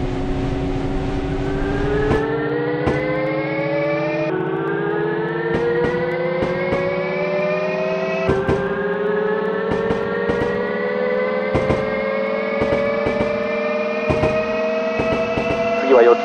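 An electric commuter train in Densha de GO! 3 pulls away and accelerates, its motor whine rising steadily in pitch with steady clicks and thumps of the wheels over rail joints, loud and continuous throughout.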